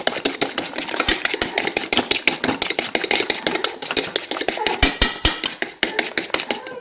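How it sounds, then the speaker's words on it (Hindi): Sugar is whisked quickly into a mixture in a bowl for banana French toast, giving steady, rapid clattering strokes against the bowl throughout, close and fairly loud. "तो अब हम इसको अच्छे से फेंट लेते हैं ताकि हमारी जो शुगर है वो अच्छे से मिक्स हो जाए"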